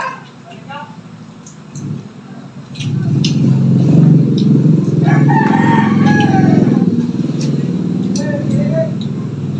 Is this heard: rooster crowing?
yes